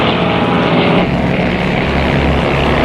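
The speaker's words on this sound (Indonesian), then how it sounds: "Pesawat tempur mereka beriringan, menembus langit dan awan putih yang membentang" Vietnam War fighter planes flying together in formation make a loud, steady engine drone and roar that fills the air without a break, with no voices.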